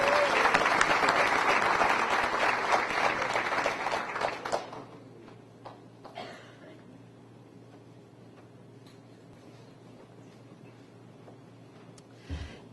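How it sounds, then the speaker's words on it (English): A school audience applauds the middle school participants and winners at an arts recognition ceremony, with loud, dense clapping for about five seconds before it dies away into quiet room tone with scattered faint claps. "And one more round of applause for all the middle school participants and winners."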